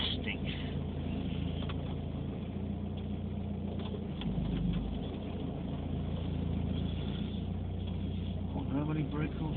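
A left-hand-drive 1981 VW LT Westfalia camper engine runs with a steady, continuous low drone and road rumble from inside the cabin, heard under intermittent talk.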